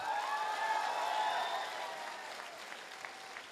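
Applause from an audience honoring a teacher at a speech event, a dense rush of clapping that is loudest at first and then thins and softens, with a faint tonal voice or hum underneath early on.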